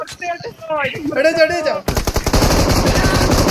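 Rapid automatic gunfire from BGMI gameplay erupts after a stretch of someone talking, continuing as dense, loud bursts to the end.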